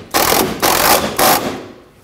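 Ratchet snugging the door check bolt on a 2012-2017 Toyota Camry front door hinge, three close, loud bursts of rapid clicking with short pauses between, no talk.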